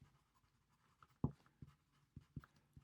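Pen writing on paper during a maths lesson, faint scratchy strokes and soft taps coming in short irregular bursts, close and quiet.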